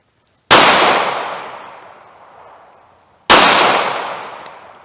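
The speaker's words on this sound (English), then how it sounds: "See if I can get any hits on it with these pocket guns." Two sharp, loud shots from a pocket pistol fired at a metal tank target about 40 yards away, each ringing out and fading slowly over nearly three seconds, with no voices.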